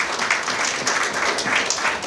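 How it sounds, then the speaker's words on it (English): A gathered audience applauds a minister at an official event, a brief, even burst of many hands clapping at close range. "Give him a round of applause."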